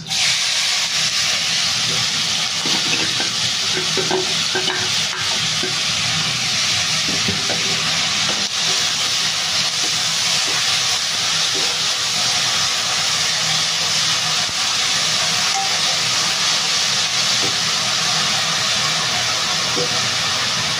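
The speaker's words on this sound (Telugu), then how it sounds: "ఆనియన్స్ మనకు మంచి గోల్డెన్ కలర్లోకి రావాలి, అంతవరకు ఫ్రై చేసుకోవాలి" Onions frying in a pan for egg curry give a loud, steady sizzling hiss that fills the whole stretch without pause, with faint clatter underneath.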